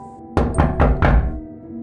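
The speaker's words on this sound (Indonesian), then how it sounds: "saya terbangun oleh suara ketukan di pintu" Four firm knocks land on a wooden door in quick, even succession, close and solid, followed by quiet.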